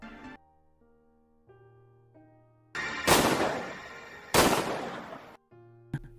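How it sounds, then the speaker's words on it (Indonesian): Two sharp, loud pistol shots ring out in a film scene, each a sudden blast with a decaying tail, set against quiet sustained music tones before and after. "Ia mendatangi Jiong dengan membawakan sebuah pistol dan ia menghadiahkan 2 tembakan tepat di perutnya."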